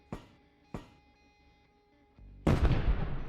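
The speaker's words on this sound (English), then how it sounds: "Oh no, he threw the grenade right at it." Grenade blast in the turn-based video game Quasimorph, preceded by two sharp isolated impacts and a low rumble, then a loud, close explosion with a decaying roar.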